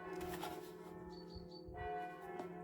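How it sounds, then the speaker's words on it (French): Church bells ring at a moderate distance, several clear tolls sounding alone over a quiet room background. "les cloches qui sonnent"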